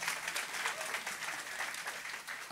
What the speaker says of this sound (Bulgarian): Моля за вашите аплодисменти, господин Карл Маркс.